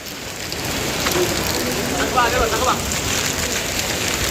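Heavy rain pours down in Srisailam during the monsoon season, a steady dense hiss of drops on surfaces that holds loud and even throughout, with faint voices in the background.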